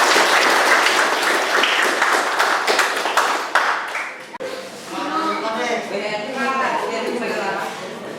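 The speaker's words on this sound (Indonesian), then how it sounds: "Tepuk tangan untuk kelas DKPD." A school class applauds together in a classroom, dense, loud clapping for about four seconds before it stops and the children's voices and chatter carry on.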